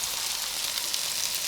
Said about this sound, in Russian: Это жарится лук с морковью.